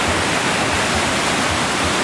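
A waterfall on a creek near Whistler in autumn roars in a dense, steady rush of falling water, loud and close and unbroken, with no voices.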